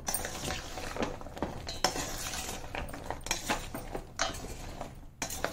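A spoon stirs and scrapes a thick shakkar paare sugar mixture around a metal pan as it cools, giving a steady close run of scraping strokes with occasional clinks and no talk.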